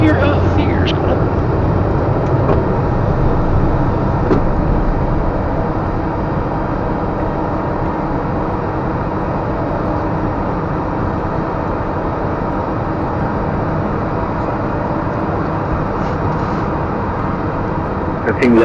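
Cessna CitationJet climbing after takeoff with the gear retracting, a loud steady cockpit roar of jet engines and airflow, continuous and close throughout, with brief clicks and radio-like bursts at the start and end.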